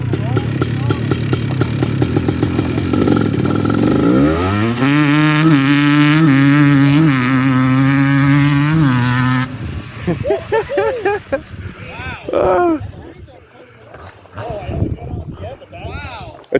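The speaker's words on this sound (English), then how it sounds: "Now they're getting ready to run the 330R in the Alta." Honda ATC 330R three-wheeler revving alongside an electric Alta three-wheeler at a racing start, a loud rising engine whine that climbs in pitch, then cuts out into scattered crowd voices and shouts.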